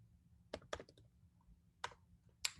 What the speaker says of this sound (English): So you start typing and it comes up and finish.